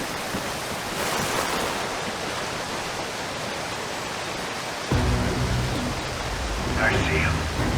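A waterfall in the video game Call of Duty Ghosts, a loud constant rushing wash of water that grows heavier partway through, with game sounds and voices talking over it.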